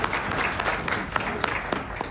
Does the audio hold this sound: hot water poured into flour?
no